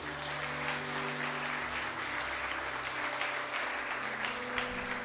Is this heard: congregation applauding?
yes